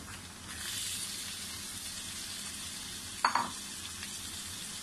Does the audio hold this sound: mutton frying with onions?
yes